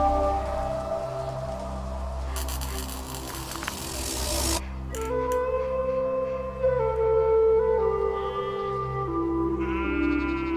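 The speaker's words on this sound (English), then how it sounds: "Sheep." Sheep bleat in the video game Little Acre, a few short wavering calls near the end that rise over sustained, steady background music.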